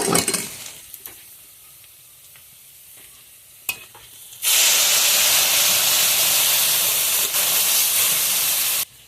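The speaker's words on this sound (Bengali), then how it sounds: "পেঁয়াজ রসুনটা আমার লাল লাল হয়ে গেছে এখন ডালটা ঢেলে দেবো" Onion and garlic frying in oil for bitter gourd dal (uchhe dal) give a low crackle at first, then a loud, steady sizzling hiss bursts out as the dal is poured in and continues for several seconds before stopping abruptly.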